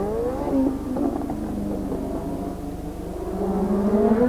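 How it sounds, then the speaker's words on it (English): Brabham BMW Formula 1 turbo race cars at the 1984 Detroit Grand Prix street circuit scream past, engine pitch rising and falling through gear changes, loud and sustained with a continuous roar. "Number 2, Theo Fabi in the 2nd of the 2 Brabham BMWs as Prost exits the tunnel"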